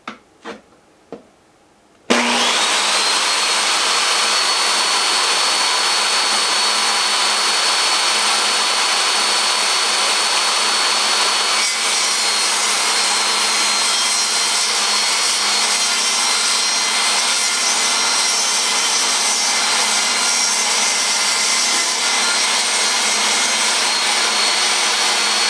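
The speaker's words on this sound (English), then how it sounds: "I would need to get the big saw" A big power saw cuts through wood in one loud, sustained whine and roar that lasts over twenty seconds, close up. A few sharp knocks come just before it starts.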